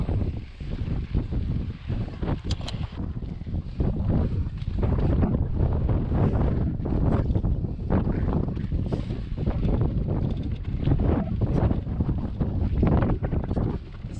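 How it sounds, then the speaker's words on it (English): Strong wind gusting at a mountain summit during a mountain bike ride near Flagstaff, roaring loudly and continuously across the microphone with fluctuating buffeting. "Woo, it's windy."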